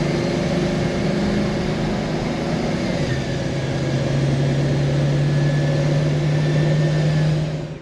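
A 2001 Ford Excursion's 7.3L diesel engine pulls steadily under acceleration, a continuous loud low drone with a rising tone partway through, heard close from inside the cab with no talking.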